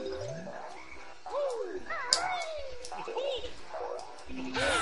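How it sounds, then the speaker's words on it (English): Frogs in the Banjo-Kazooie video game croak in a rapid, warbling series, while people talk over them throughout. "Frogs are just asking for trouble."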